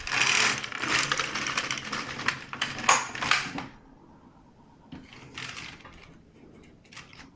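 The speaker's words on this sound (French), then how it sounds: "On tricote un dernier rang pour accrocher les deux morceaux ensemble." An LK150 knitting machine knits a row, its carriage giving a close, busy clattering swish for a few seconds before it drops to softer, intermittent mechanical clicks.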